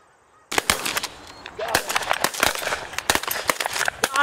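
Geese honk in a field during a goose hunt, many loud close calls overlapping in rapid irregular bursts after a quiet start, a busy flock clamouring continuously.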